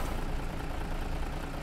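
A bus engine in the driving simulator OMSI 2 idles steadily, a continuous close, mid-loud rumble with no change over the short span.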